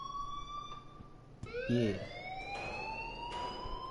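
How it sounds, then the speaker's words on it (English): An alarm in the video game Life is Strange rings as a steady electronic tone with rising sweeps, continuing under a brief spoken word. "please turn off that alarm since that's your job."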